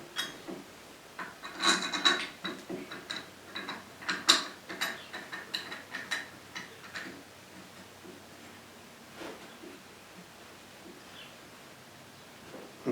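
A homemade camera arm base with a welded nut is clamped onto a hunting treestand, producing a run of close metallic ratcheting clicks and scraping knocks that fade into quieter handling, with no speech.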